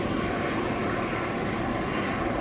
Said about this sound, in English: The ALH helicopter and the Sea King helicopter just arrived onto the display area.